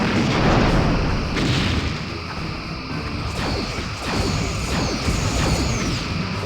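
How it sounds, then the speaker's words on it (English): A heavy cruiser blows apart in Star Trek Bridge Commander with loud, rumbling explosion booms and crashing blasts that roll on continuously, thick with low-end weight and no speech over them. "The heavy cruiser has been destroyed."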